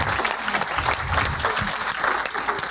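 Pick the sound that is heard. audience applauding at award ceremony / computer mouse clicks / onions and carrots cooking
audience applauding at award ceremony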